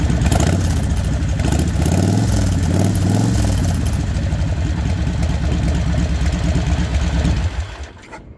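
A 2002 Harley-Davidson Sportster Hugger motorcycle idles with a steady, loud, lumpy low rumble close by, its uneven pulsing beat continuing until it drops off near the end.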